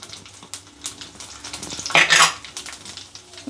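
Mustard seeds, cumin and broken dried red chillies fry in hot oil in a pan for a grandmother's raw tamarind pounded chutney, giving a steady close sizzle with scattered crackles and one louder spitting burst midway, with no talking.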